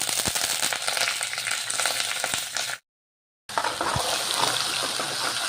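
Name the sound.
ginger garlic paste and curry leaves frying in a pan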